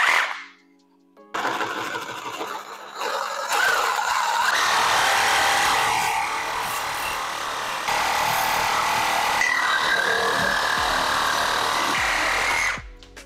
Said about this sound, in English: Always a good time when I get to use my buddy the Sawzall.